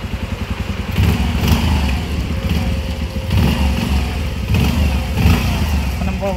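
A petrol-electric hybrid Pulsar motorcycle runs with its electric back-wheel setup, the engine thrumming loudly and close with rhythmic low pulsing and a few rises in revs.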